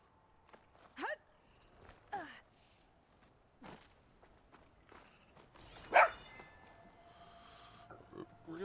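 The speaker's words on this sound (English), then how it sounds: "Puppy." A puppy in the video game Horizon Forbidden West gives a few short, sharp yips spaced a second or so apart, moderately close, over quiet footsteps and soft ambient game sounds.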